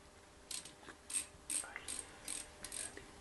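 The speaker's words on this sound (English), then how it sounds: "tighten the clamps either with a slotted screwdriver or in this case an 8mm socket" Pipe clamps on a dual soda and abrasive media blaster being tightened with an 8mm socket and ratchet: a series of short, quiet clicking ratchet bursts in an irregular rhythm, heard close up.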